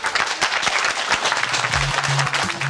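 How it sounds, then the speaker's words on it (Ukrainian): Subordinates of a medical college director in Berdychiv clap for him in a loud, dense burst of applause, with a brief low hum or tone entering near the end. "під оплески своїх підлеглих"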